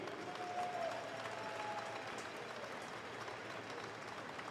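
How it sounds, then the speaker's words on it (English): Spectators in an arena give a faint, distant wash of applause for both teams after a national ball hockey gold medal game between the Edmonton Savages and the Brampton Midnight Express. It stays low and continuous, with crowd murmur mixed in. "Big round of applause for both teams."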